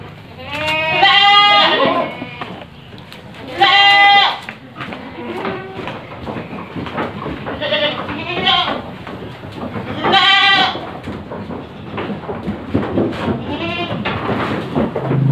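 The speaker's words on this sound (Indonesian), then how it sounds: "inilah kambing-kambing saya yang lahap memakan ampas singkong" Several goats bleat loudly in repeated cries, close by, over a constant background of munching and rustling as they eat cassava pulp.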